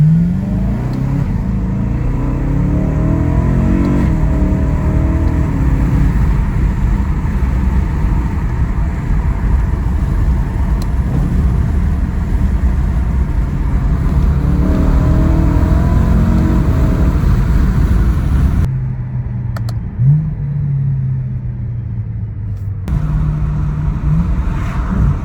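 A BMW E92 M3 with a V8 engine drives along, its engine note droning steadily with rising and falling revs under heavy road and wind noise, with a brief quieter stretch near the end.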